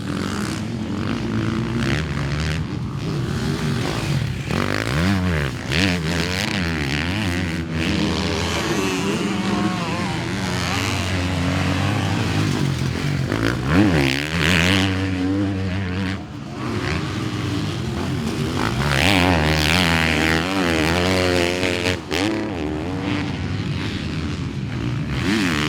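2021 KTM 350 SX-F motocross dirt bike being ridden, a steady buzzing four-stroke engine whose pitch repeatedly climbs and drops as the rider works the throttle and gears, loud and sustained throughout with no speech.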